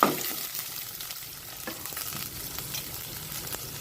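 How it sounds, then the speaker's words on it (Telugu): Curry leaves and chopped onions crackle in hot oil for a South Indian curry tempering, a steady close sizzle with faint spoon scrapes and no voices. "ఉల్లిపాయలు వేసి కొంచెం వేగనివ్వాలి"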